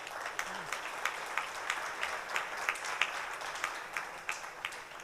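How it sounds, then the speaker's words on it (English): A faint round of audience applause at a tech event curtain raiser, sparse individual claps standing out over a soft continuous patter, steady throughout. "Give them a big round of applause."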